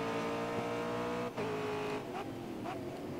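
Racing car braking in the Grid Autosport racing game, a loud sustained engine whine that dips sharply as the car slows, followed by tire scrub and further engine changes.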